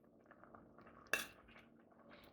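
Red beans and rice being served onto a plate with a utensil, a single sharp clink of metal on the dish standing out over a faint, soft kitchen background.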